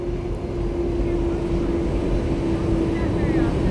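Air Force One running down the runway at Andrews before takeoff, a steady droning jet engine hum with a constant tone, heard under a news reporter's voice.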